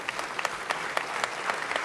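Audience clapping at a George Mason University 50th anniversary celebration for long-serving faculty and staff, a steady dense wash of hands with crisp individual claps standing out, moderately distant and sustained without break.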